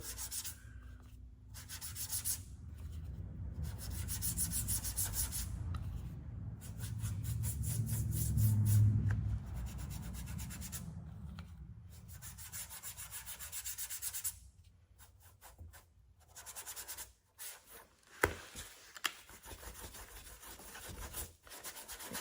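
A dry brush buffing gilder's wax over rusty metal, giving long continuous scrubbing and rubbing strokes up close, heavier in the middle and then turning to lighter, intermittent brushing.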